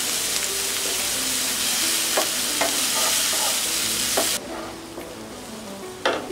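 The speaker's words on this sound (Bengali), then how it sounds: "পেঁয়াজটাকে আমি হালকা করে ভেজে নেব।" Onion frying lightly in a little oil in a pan for a homemade pizza topping gives a steady close sizzle, with occasional stirring scrapes, and the hiss drops suddenly partway through.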